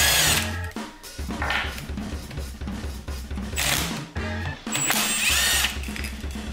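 A power tool loosens bolts on a turbocharger compressor housing during a rebuild, sounding as several close, loud bursts of whirring and rattling with short pauses between them.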